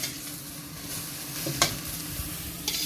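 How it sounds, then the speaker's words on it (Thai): Shrimp are stir-roasted in a pan. A soft, steady frying hiss runs through, with a sharp scrape or clatter of the spatula near the middle and another toward the end. No one speaks. "คั่วให้มันออกส้มสีส้มๆหน่อยเนาะ"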